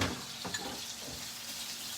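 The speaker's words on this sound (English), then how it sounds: "we're gonna go now and sear all that in the olive oil" Olive oil sizzling steadily as ingredients sear in a hot pan for a Thanksgiving appetizer, a continuous even hiss with faint crackle and no talking.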